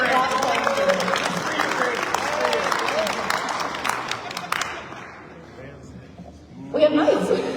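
Seminar audience clapping at a live tabletop gaming event, a dense patter of many hands mixed with crowd murmur and some chuckles, easing off before a fresh burst near the end.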